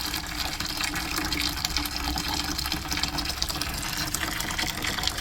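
Hot, dirty water gushes steadily out of a steam boiler during basic maintenance, a continuous broadband rushing and splashing that stays even throughout.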